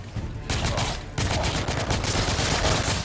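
Tommy gun fired in The Order: 1886 on PlayStation 4: loud, continuous automatic bursts with one brief break, dense and close, with no voices.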